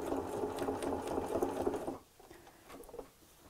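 A sewing machine stitches bias tape through the layers of a tea cosy with a fast, steady mechanical whirr for about two seconds, then stops, leaving light fabric handling noise.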